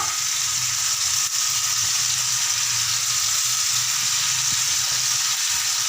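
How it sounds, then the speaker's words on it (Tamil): Chopped cabbage fries in a pan with a steady, even hiss of sizzling, close and continuous, with no voices, while making egg kothu chapati. "இப்போ நம்ம கோசு நறுக்கி வச்ச கோஸை போட்டுக்கோம்"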